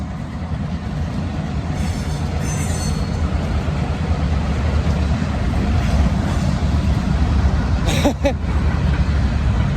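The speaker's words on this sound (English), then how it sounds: "I've never been in the cemetery where a train's going by." A small train rumbles past steadily nearby a cemetery in Midway, Kentucky, with a brief high whistle sounding near the end over the continuous rolling noise.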